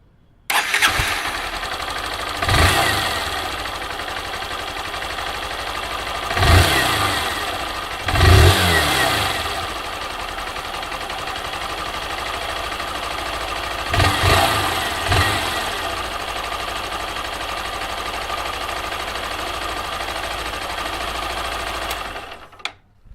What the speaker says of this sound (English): the valve train of this engine is actually very noisy